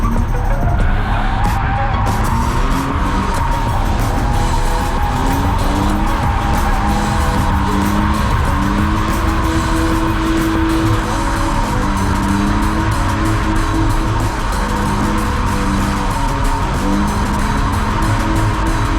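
A car engine roars steadily while tires squeal and skid continuously as the car drifts, loud and close throughout with no talking.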